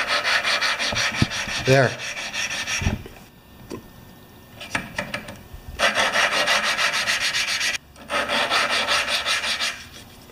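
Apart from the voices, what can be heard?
lapping a snowmobile engine valve with lapping compound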